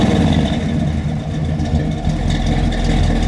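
A 1965 Pontiac LeMans GTO tribute convertible with a 455 engine, cam, headers and dual exhaust, rumbling steadily at a loping idle after a rev, loud and close with no talk.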